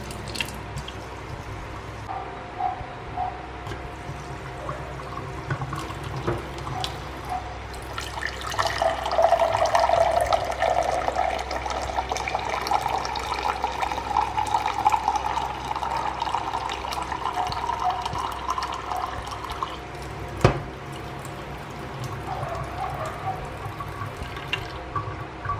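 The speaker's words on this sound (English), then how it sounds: "the water will start flowing steadily" Clean water streams steadily from an Ecosphere water purifier, a soft continuous trickle with faint drips and one sharp clack near the end.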